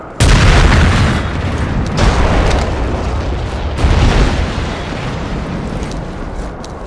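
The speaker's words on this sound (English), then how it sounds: "grenade!" A grenade blast in the Battlefield 2 RUSmarines mod on the Goods Station map gives a loud, sustained booming rumble, with a second swell of explosive noise a few seconds later and no talk.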